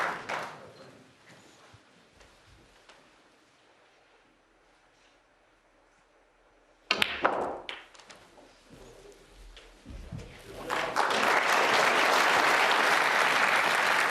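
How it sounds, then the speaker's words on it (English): A snooker crowd at the World Snooker Championship final breaks into applause and cheering, starting with scattered claps then swelling into loud, sustained clapping that fills the hall. "To a big cheer."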